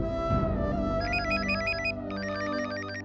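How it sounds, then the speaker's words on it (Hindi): A telephone ringtone rings loudly and steadily in a home, a repeating electronic ring pattern that fills the room with no one talking over it. "अभी इस वक्त किसका फोन है?"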